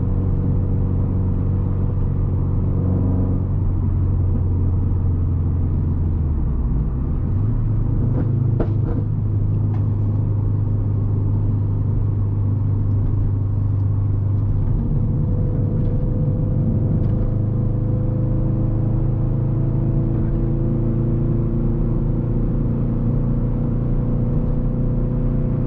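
Subaru WRX STI with a burble tune idling and revving, a deep steady exhaust rumble with a rise in pitch and a few faint crackles and pops over the drone.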